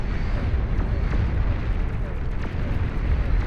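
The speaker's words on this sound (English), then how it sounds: "Shiva missiles also capable of penetrating those shields, making them a very good siege unit." Shiva siege unit missiles firing in the real-time strategy game Beyond All Reason during an 8v8 deathmatch, a dense continuous roar of launches and booming impacts, loud and sustained throughout.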